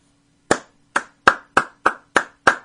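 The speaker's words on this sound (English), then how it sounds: "There, a quick little clap." A single person clapping hands, seven crisp close claps in an uneven quick rhythm against a quiet room, with no talking.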